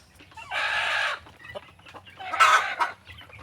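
Native Bisaya chickens kept in an open yard give two bursts of clucking and crowing, close and moderately loud, with quieter scratchy clucks between them.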